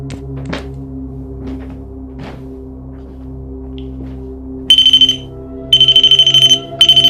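A REM pod paranormal detector in a reputedly haunted house starts sounding midway, a loud rapid electronic beeping alarm in repeated bursts after a stretch of quiet room tone with a few soft knocks.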